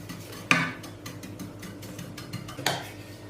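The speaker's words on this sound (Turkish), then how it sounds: "Kaşık yardımıyla yayıyorum." A metal spoon spreads milk pudding (muhallebi) over kadayıf in a pan, giving two sharp, close clinks against the dish with quiet scraping between them.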